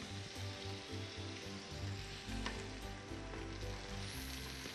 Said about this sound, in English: And stir fry to cook until it is done.